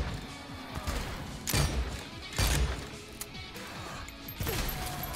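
Shotgun fire in the video game Dead Island 2: three heavy, booming blasts spaced a second or two apart, each sharp and loud, cutting through a constant bed of noisy in-game ambience.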